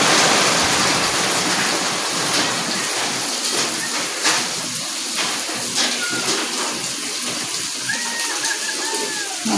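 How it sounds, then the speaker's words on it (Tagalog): Dense, steady rushing of heavy rain pours down outdoors, loud and continuous, with faint scattered clatter and a few brief tones in the background and no talking. "Umuulan po na naman sa amin."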